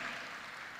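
Congregation clapping in a church service, a dense steady wash of many hands filling the room for just under a second, with no voices on top.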